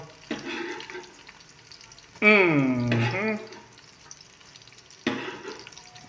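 Chopped garlic hits the pan and fries alongside onions for tinola, with a loud sizzling burst that gradually settles into a quieter steady crackle, then a second sizzling surge near the end.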